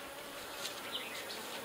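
Honey bees buzz steadily from an opened backyard beehive, a dense close swarm drone with a few louder passes as individual bees fly near, no talking.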